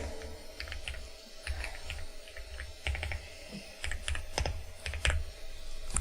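Quiet, irregular clatter of keys typed on a computer keyboard, with bursts of quick presses and short pauses over a faint background hum.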